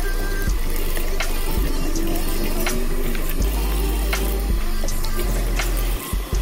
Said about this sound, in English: Next I'm just gonna wash out that silicone mix in the sink